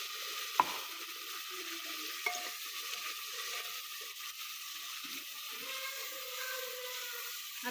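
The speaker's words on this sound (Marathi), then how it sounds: "हे असं परतून झालं" Vegetables sautéed in a pan give a quiet, steady sizzle with a couple of sharp clicks from a utensil and faint scraping, heard alone at low level.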